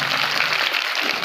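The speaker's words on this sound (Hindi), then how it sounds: "एक बार इन सभी के लिए ताली बजा करके हम बहुत बहुत अभिनंदन" An audience at an Independence Day school celebration in Chakhu applauds the principal and teachers, a dense, steady wash of clapping lasting throughout.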